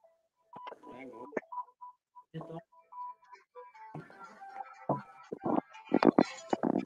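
Telephone dialing tones, a sequence of short beeping touch-tone pulses interleaved with close speech, the voices talking around and over the tones.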